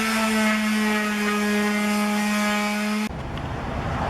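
A power sander working on bedroom furniture, a loud steady motor whine with a strong even hum that cuts off abruptly after about three seconds, leaving rougher, duller scraping noise.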